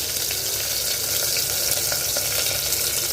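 Sambar onions (shallots) sauté in a pot with a loud, steady sizzle that fills the whole stretch, broken by faint crackles and the occasional stir.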